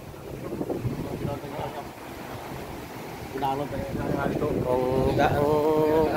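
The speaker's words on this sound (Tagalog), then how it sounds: "Ang alon malalaki." Waves wash and churn around a moving boat while wind rumbles in the microphone; a voice is heard briefly over the surf.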